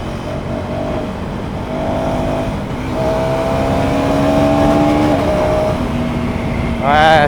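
A KTM Duke 350 motorcycle accelerates hard through third gear, its engine note rising and climbing in pitch over several seconds. A rider talks over the engine throughout.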